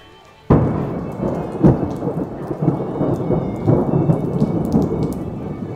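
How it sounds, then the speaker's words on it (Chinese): Thunder cracks loudly and rolls on while heavy rain pours steadily outside a cave in Springfield on a US road trip, with further rumbles through the downpour and no voices. "打雷了，这么大雷。"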